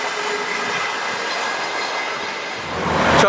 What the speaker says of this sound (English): Transpennine now, it's crossing over for some reason